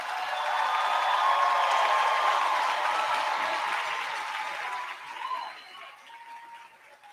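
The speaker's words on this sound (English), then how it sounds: "Let's give our graduates a round of applause." Audience at the OHS 2022 high school graduation ceremony applauding the graduates, a broad, steady wash of clapping that swells early, holds, then gradually tapers off with a few stray claps near the end; no speech.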